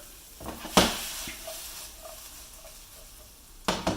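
Freshly chopped tomato and onion fry in a pan with a steady close sizzle and crackle, broken by a few sharp clinks of a utensil against the pan.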